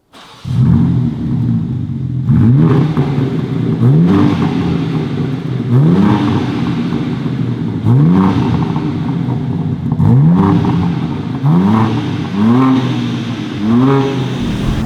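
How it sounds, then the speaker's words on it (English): A 2021 BMW M3 Competition engine revs repeatedly up and down, a loud, close rumble with rising and falling pitch sweeping about every two seconds, no one talking over it. "the 2021 BMW M3 competition."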